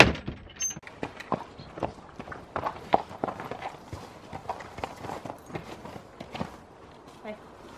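Two horses are led outside at a stable, their hooves clopping in a steady walking rhythm close by, with a few louder thuds and possible voices under the footfalls.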